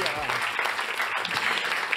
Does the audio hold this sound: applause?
yes